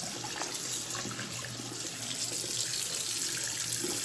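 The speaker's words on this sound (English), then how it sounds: "I just pick it up and I rinse it off" Running tap water streams steadily into a sink while a makeup brush cleaning mat is rinsed, front and back, under the flow, a continuous close splashing rush with no pauses.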